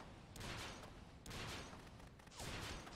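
Rifle gunfire in the video game Bullet Witch, heard as three dense bursts of shots that are loud and close, separated by short gaps.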